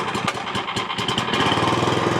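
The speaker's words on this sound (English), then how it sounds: "That little Briggs & Stratton cranks every time." A small Briggs & Stratton engine on a sawmill setup cranks with a few sputtering turns, then catches and runs with a fast, steady chugging putter, close and moderately loud.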